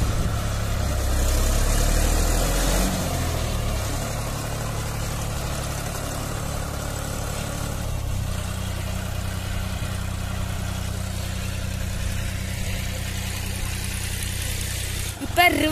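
A John Deere 5310 tractor engine idles and chugs steadily, dropping in pitch as it settles and shifting as four-wheel drive is engaged, with someone talking over the low, continuous rumble and a brief clunk near the end.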